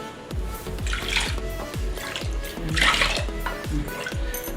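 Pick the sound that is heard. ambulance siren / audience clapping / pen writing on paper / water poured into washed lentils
water poured into washed lentils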